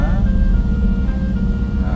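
A tricycle engine runs steadily with a loud, close, rough motor drone that stays constant throughout, with a faint tonal whine above it.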